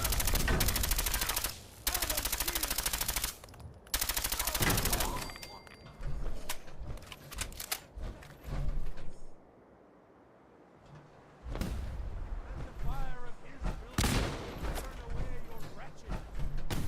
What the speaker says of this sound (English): what the fuck are they shooting at me?